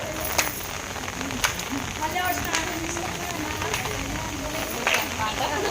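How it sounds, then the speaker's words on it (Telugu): Heavy rain pours down on an outdoor Bathukamma celebration where people keep dancing, a dense hiss of falling water with occasional sharper splashes and thuds, and voices faintly present within the downpour. "మస్తు వాన పడుతుంది."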